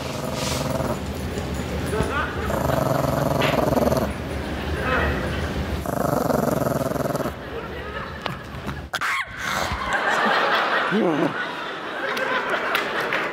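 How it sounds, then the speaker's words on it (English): A small, ill-tempered pet dog in a home kitchen, yipping and whining in short bursts over steady background noise and sounds of movement. "this is my sister's dog, this dog, hates everyone and everything about the world"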